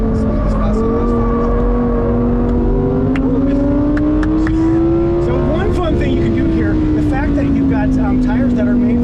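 A 2023 Lamborghini Huracan Sterrato runs a lap around cones, its engine note rising and falling steadily as it shifts and corners, loud and close throughout, with a voice talking over it.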